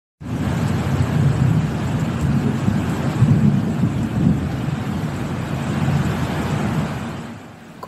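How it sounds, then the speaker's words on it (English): Thunder rolls in long, deep waves through a storm, a continuous heavy rumble with rain and wind noise beneath, loud and sustained for several seconds without any voices. "Thunder rolls in waves, shaking the ground and echoing across the sky."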